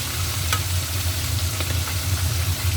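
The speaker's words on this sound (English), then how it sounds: "I managed to have the wok not splatter. It does splatter, but not so much." Fish frying in oil in a wok, a loud close sizzle with a low rumbling hum beneath and occasional sharp pops of splatter.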